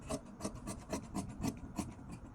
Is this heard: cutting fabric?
yes